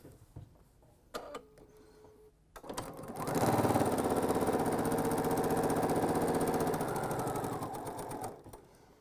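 A sewing machine stitches four lengths of fabric in two different colors together. A few quiet clicks come first, then a steady, loud mechanical whir runs for about five seconds before stopping.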